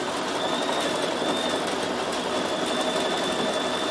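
A Bernina 7 Series embroidery machine with an embroidery module stitches letters, underlay first and then satin stitch, running as a fast, even mechanical whirr and hum that stays steady and close throughout.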